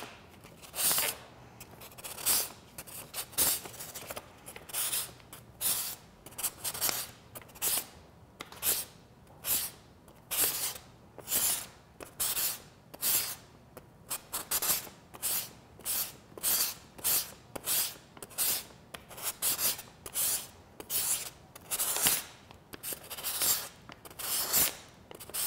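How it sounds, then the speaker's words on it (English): Steady rhythmic scratchy strokes of 400-grit sandpaper rubbing foam, repeating back and forth at a regular pace in one direction, close and moderately loud with no talking. "So I'll use my 400 grit sandpaper and just start sanding in one direction."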